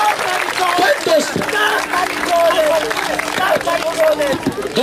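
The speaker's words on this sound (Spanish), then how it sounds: "¡Fuerte las palmas!" An audience at a stand-up comedy show claps in rhythm along with the comedian, steady loud clapping under constant shouting and a lively crowd.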